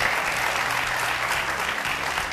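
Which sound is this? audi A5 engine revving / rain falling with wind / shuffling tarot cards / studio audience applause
studio audience applause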